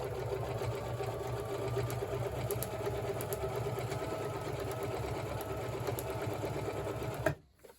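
Sewing machine stitching through hoodie fabric, a close, steady, fast mechanical whir running continuously for about seven seconds before stopping abruptly.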